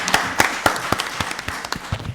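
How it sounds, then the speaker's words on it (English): Applause from a small group at a county board of commissioners meeting, heard as a short run of sharp, separate claps in a steady rhythm, moderately near, with no talk over it. "Now give you her a see- round of applause."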